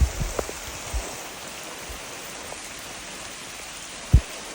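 Heavy rain pours beside a creek, giving a constant hiss of falling water with a few dull knocks and thumps close by, and no one speaking.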